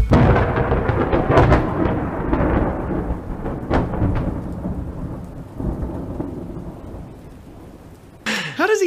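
Thunder rolls and cracks through a heavy rainstorm in the monster film Godzilla: Final Wars, a long loud rumble with sharp strikes early on, easing slightly before a sudden bright burst near the end.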